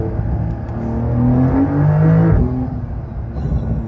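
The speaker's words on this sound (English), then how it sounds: "I'm using the paddle shifters right now." Porsche 911 Carrera S engine in a new model, upshifting rapidly through paddle-shift gears, with loud rising revs that drop sharply at each shift, heard from inside the car with no talking.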